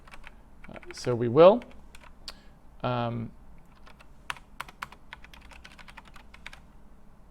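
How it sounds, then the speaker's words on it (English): Computer keyboard typing during a programming session, a scatter of light clicks and keystroke bursts across the second half, near and fairly soft, following a stretch of speech. "Nice typing there."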